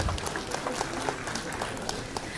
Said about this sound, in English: So big round of applause for Sushma V.